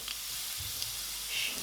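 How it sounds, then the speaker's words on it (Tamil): Garlic and curry leaves frying in hot oil, a steady, bright hiss of sizzling with a faint stir partway through, close and continuous. "போட்டுட்டு அதில் இருக்கிற அந்த ஈரப்பதம் போகிற அளவுக்கு நல்லா அந்த ஆயில்லையே ஃப்ரை பண்ணி விடுங்க"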